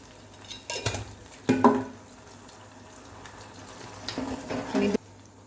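Sugar and salt being stirred into dhokla batter, a spoon clinking and scraping against a vessel in two short bursts separated by quiet, with a faint voice in the background.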